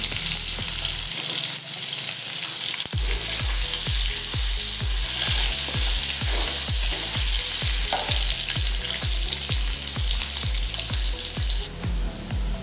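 An egg fries in hot oil in a home kitchen, a bright constant sizzle with repeated rhythmic scraping stir strokes of a spatula in the pan, close and loud, without talk.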